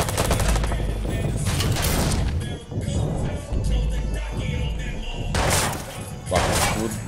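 Gunfire in the video game Watch Dogs, loud rapid bursts of shots and impacts in dense volleys with brief pauses, under a speaking voice.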